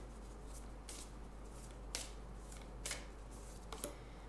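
Tarot cards are handled quietly, with soft shuffling and a few brief, crisp flicks as a single card is drawn, close and faint in an otherwise still room.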